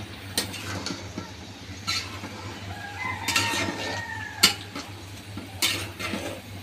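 Okra and tomatoes with dried prawn are stirred in a cooking pan, giving scattered soft scraping clicks over a steady low hum, while a rooster crows faintly in the background.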